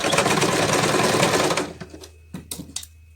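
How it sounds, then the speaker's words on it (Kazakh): A sewing machine stitching patchwork quilt fabric runs in a loud, steady whirring burst for about a second and a half, then stops, followed by a few scattered clicks and handling knocks. "Төрт жағына осылай тігіп шығамыз."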